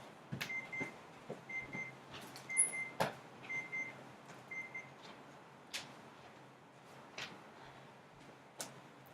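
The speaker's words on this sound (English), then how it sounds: "And my buzzer keeps on going off." Electronic buzzer in a quiet room sounds a few short, faint repeated beeps, with soft clicks and small knocks scattered around them.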